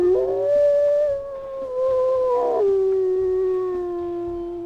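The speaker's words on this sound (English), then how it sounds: "And then for his howl" A wolf in the video game WolfQuest gives a long, sustained howl that steps up in pitch partway through and then slides slowly downward, loud and close, over a faint looping game background.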